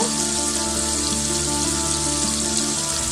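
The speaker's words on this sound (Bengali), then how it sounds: "এবারে টমেটো পেঁয়াজ বাটাটা আমি ভালো করে কষিয়ে নেব।" Tomato-onion paste for a Bengali pabda fish curry fries in a pan, giving a continuous close sizzle and bubbling hiss throughout, with no voices.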